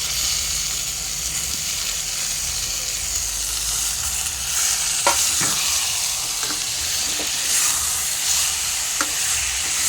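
Half a kilo of tender mutton sizzles loudly in a hot pan, a constant frying hiss broken by several sharp clinks and scrapes of stirring, with no voices.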